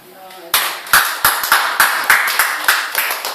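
A church congregation claps in acclaim, a run of loud, sharp claps in a steady rhythm about three per second after a brief voice at the start.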